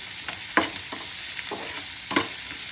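Chopped onion, ginger and garlic with spices fry in a pan as filling for a Bengali bhetki fish chop, a soft steady sizzle broken by a few light scrapes of stirring.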